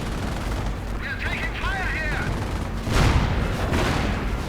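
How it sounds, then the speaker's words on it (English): Strafing gunfire from a Henschel aircraft in a World War II strategy game: a dense, rumbling barrage of shots and booms that swells louder near the end, with harmonic voice-like tones layered over the din. "Henschel strafing run."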